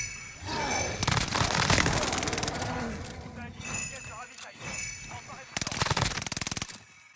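The Cooper weapon in a battle royale shooter fires loud, rapid automatic bursts in several strings with brief pauses, while a voice talks over the shooting.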